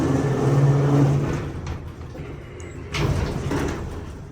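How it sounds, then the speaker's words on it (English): A worn 1977 Montgomery freight elevator door slides shut with a long, rumbling metallic roll that fades, followed by a second heavier scrape and clunk near the end, loud and close. "Close the door."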